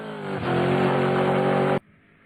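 A green BMW E30 fitted with a V8, set up as a drift car, revs hard and loud for about a second and a half, then cuts off abruptly into quiet background.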